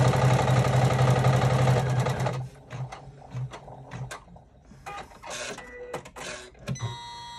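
An embroidery machine stitching a zipper clutch buzzes rapidly and loudly for about two seconds, then stops and gives way to scattered clicks, taps and short mechanical whirs.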